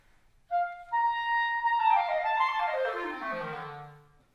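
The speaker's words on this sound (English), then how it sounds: "if I were to play this third example on the clarinet, it will sound like this" A clarinet plays alone, a few held opening notes leading into a quick run that climbs high and then tumbles back down, fading out at the end.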